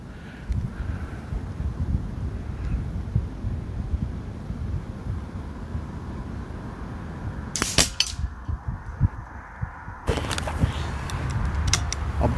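A Weihrauch HW97KT air rifle fired at a practice target outdoors. Two sharp, brief cracks ring out a couple of seconds apart over steady wind noise.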